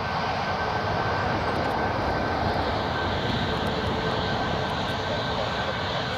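A TUI passenger jet at Newcastle Airport roars steadily, a loud, broad, continuous engine rumble and whine holding level throughout with no break.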